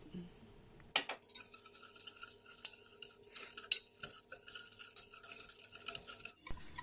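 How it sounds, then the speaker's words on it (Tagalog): Sugar, brown and white, stirred with melting butter in a pan for an apple pie filling: steady scraping and clinking of a spoon against the pan, starting after a second and continuing in uneven strokes, close and fairly quiet. "Stir them constantly until all is melted."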